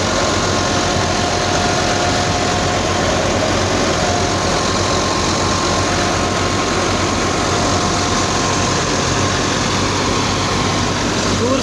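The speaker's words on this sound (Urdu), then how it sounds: "تین 385 ٹریکٹر ہے۔" A 385 model tractor drives a threshing machine, its engine running loud and close in a steady, continuous drone with heavy low rumble and mechanical vibration throughout.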